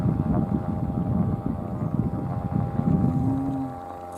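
A boat motor runs on a river, a steady low droning hum with wind noise over the microphone, holding a constant pitch before easing off slightly near the end.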